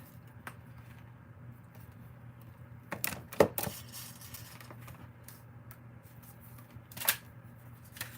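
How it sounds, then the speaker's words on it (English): Scissors snip off a paper border edge during a craft session, a few brief close crisp cuts with a quick cluster of snips, faint and otherwise quiet with a low steady hum underneath. "I'm just going to line up my scissors nice and straight and cut that piece off."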